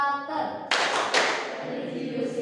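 Junior high school students in Kuta, Badung perform a character clap routine. After a brief voice, two sharp, close hand claps ring out about half a second apart and then fade.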